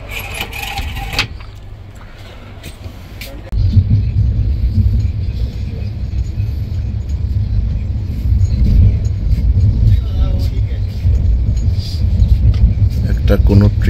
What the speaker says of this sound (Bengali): একটা কোনো ট্রেন ক্রস হয়ে গেল